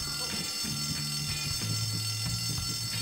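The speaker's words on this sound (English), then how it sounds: "Why are they pulling the fire alarm?" In the video game Bully, a school fire alarm rings steadily at moderate volume with a continuous buzzing tone throughout, no voices over it.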